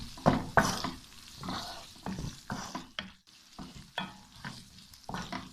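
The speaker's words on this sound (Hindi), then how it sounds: "अंडों को तोड़ लिया है, बारीक हो गए हैं अंडे। इसको थोड़ा सा भून लेते हैं।" Chopped boiled eggs fry in a pan for khageena, a soft sizzle broken by rhythmic spatula stirring strokes about twice a second, close and fairly quiet without speech.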